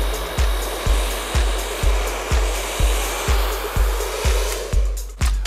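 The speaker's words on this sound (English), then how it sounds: "flip your hair forward and start the blow drying of the hair" A hair dryer blows steadily and loudly while drying hair, with a rhythmic low thump about twice a second as the airflow shifts, and no voices.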